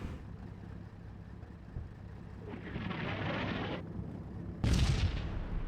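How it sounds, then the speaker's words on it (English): Artillery fire in the WWII strategy game Combat Mission Normandy, heard as a rumbling barrage building steadily over a low background drone and then a sharp, louder blast near the end. "Artillery is a little off, which is actually kind of good. That means it won't hit my guys."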